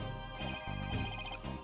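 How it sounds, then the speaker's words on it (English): A telephone rings in the Ace Attorney Dual Destinies video game, a steady electronic ringing tone that fills the short moment alone, close and even in level. "Where's that ringing coming from?"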